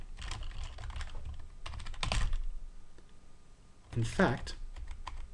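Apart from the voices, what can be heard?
typing code on a computer keyboard in Idris mode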